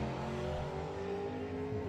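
Drag racing car engine with a turbo spooling up, a continuous loud engine drone with rising harmonic whine throughout, no voices.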